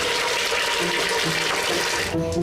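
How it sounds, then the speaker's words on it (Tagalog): Steady rushing water fills the whole clip, loud and continuous like a tap or flush running, with the noise thinning out near the end. "Parang may naririnig akong tubig."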